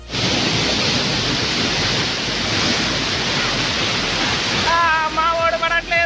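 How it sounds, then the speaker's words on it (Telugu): Chittoorguppu waterfall, a hidden fall in Bayyaram mandal of Mahabubabad district during the monsoon, pours as a loud, steady, broadband roar of rushing water throughout, with a faint tonal sound near the end. "ఇది చిత్తూరుగుప్పు జలపాతం అండి."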